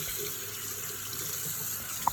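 Tap water running steadily into a sink for a cockatoo's bath, an even close splashing hiss with no voices over it and a brief sharp chirp near the end.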